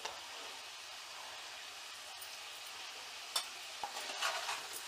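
Raw banana vegetable being stirred in a pan, soft continuous scraping and faint sizzling at low volume, with a few sharper clinks of the utensil against the pan toward the end.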